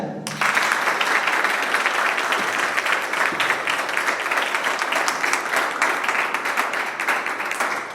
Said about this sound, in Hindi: धन्यवाद ताली।